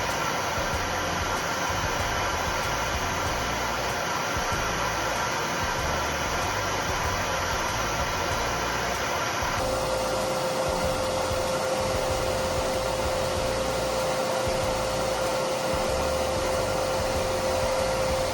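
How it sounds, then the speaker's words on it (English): A 3D printer fume extraction fan feeding into a vacuum unit on an Anycubic Kobra Neo 2, a loud, steady airy whoosh with a constant motor hum and a slight tonal change partway through. "Then the fan sucks in the smoke, blows it out here, and then it gets back sucked back into the white vacuum part."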